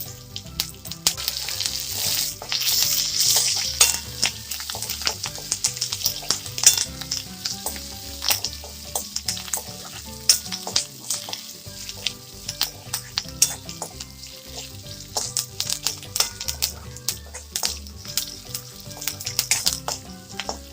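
Ginger, green chillies and curry leaves fry in tempering oil for Bombay chutney, with a bright, continuous sizzle, popping crackles and frequent spoon clatter against the pan, close and loud throughout.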